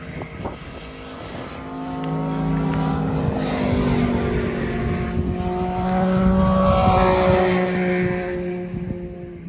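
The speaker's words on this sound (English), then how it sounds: "Oh, here, a bunch of bikes coming down." A group of motorbikes passes by on a road, engines swelling as they approach and rising in pitch, with several overlapping revving tones that carry on for several seconds before starting to fade.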